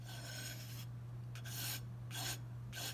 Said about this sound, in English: I'm going to scrape, scrape the trunk of my tree.